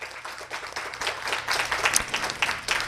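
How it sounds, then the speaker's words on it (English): A horse show audience at the Long Island Riders with Disabilities championship finals applauds a sponsor, a moderate round of scattered clapping that builds slightly and carries on steadily throughout. "I would like to have a big round of applause for Bridgehampton Bank."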